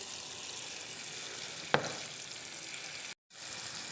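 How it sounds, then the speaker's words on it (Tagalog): Buffalo wings crackle and sizzle steadily in hot oil during a second fry, a soft constant hiss with one sharp pop and a brief cutout near the end. "Ito, double fry natin to guys para malutong talaga."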